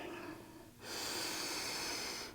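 Deep breaths during a gentle yoga stretch, a quieter inhale followed by a loud, airy exhale lasting over a second, close and alone.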